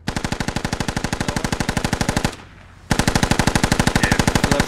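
Machine gun fire in a video game: long rapid bursts of evenly spaced shots, loud and close, with a short pause before the firing resumes at the same steady rate.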